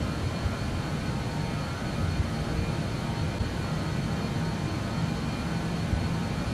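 JustFlight BAe 146 engines at takeoff power in Microsoft Flight Simulator: a steady, loud, broadband jet roar with a constant whine, droning evenly without pause.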